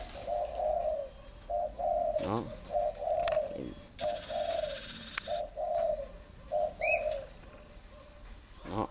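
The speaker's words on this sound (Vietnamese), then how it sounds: "Thỉnh thoảng mình cứ nghe những cái tiếng gù như thế." Spotted doves coo in soft repeated phrases, one nearby and another farther off, with brief chirps and a quick flutter of wings; someone speaks briefly.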